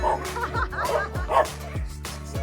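Several dogs bark and yip in quick, repeated bursts at a dog and cat animal shelter, the barking close and fairly loud with overlapping voices of other dogs.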